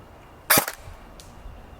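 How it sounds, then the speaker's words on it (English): A single sharp shot from a Barra 400E Gen 2 electric full-auto BB gun, a close snappy crack followed by a faint secondary tick, otherwise quiet. "You notice it sounds like an airsoft gun kind of, but a more powerful one."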